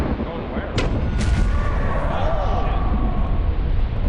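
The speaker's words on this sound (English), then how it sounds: "I'm gonna fire the mortar." Mortar fire in the co-op game Lethal Company, heavy booming launches with sharp onsets over a loud rumbling background, while a person talks throughout.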